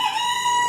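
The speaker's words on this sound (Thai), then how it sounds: "พร้อมเสียงไก่ขัน" A rooster crows one drawn-out call in the morning, loud and near, with no talk over it.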